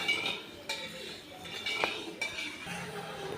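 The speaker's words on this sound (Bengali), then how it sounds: "এইভাবে আমি নাড়াচাড়া করে একটা আমি চিনি শিরা তৈরি করে নেব" Metal spoon clinking and scraping against a pan while sugar and water are stirred into syrup at home, a few distinct sharp taps over a soft scraping bed, close by with no talking.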